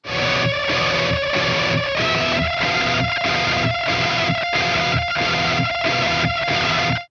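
A loud distorted electric guitar plays a fast, rhythmic solo passage from a song with sustained, gritty notes.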